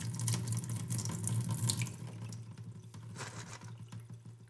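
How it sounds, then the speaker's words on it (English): Water drains steadily out of a Lot-O rock tumbler barrel with a running, faucet-like gush, louder at first and then easing into a softer flow, close by and with no talking. "And just going to drain out as much water as I can."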